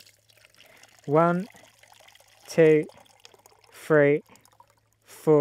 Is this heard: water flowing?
yes